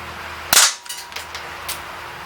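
A single sharp crack from an Umarex Beretta 90two CO2 BB pistol fired at a target, close and loud, with a short gassy burst and a couple of faint metallic clicks afterward.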